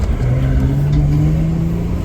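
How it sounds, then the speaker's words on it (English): A Dodge Challenger engine holds a steady, rising drone with a low harmonic climbing gradually, loud and continuous from a car driving with its windows down. "Dodge Challenger, baby"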